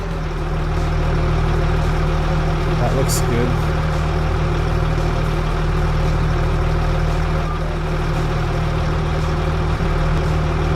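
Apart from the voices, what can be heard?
truck engine idling with exhaust extension mod, Farming Simulator 25 video game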